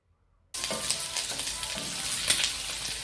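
Pork frying in its own rendered fat while being stirred, starting abruptly after a short silence and then holding a loud, steady, crackling sizzle with stirring scrapes mixed in, close up and without speech.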